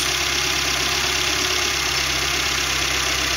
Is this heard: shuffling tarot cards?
no